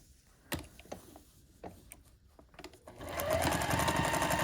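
Close by, a sewing machine stitches a pineapple quilt block, a few clicks and handling taps first, then a steady, fast mechanical whir that builds for the last second and a half.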